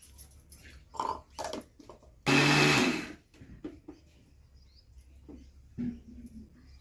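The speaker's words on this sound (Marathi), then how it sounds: "आता फायनली मी तीळ बारीक करून घेते" Mixer grinder coarsely grinding sesame seeds in short pulses, with one loud burst of whirring motor lasting about a second amid clicks and handling noises in a quiet kitchen.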